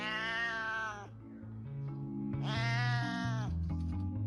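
A pet cat, six years old and just out of his carrier, lets out two long, loud, drawn-out meows close by, with lower plaintive mewing and faint sounds between the calls.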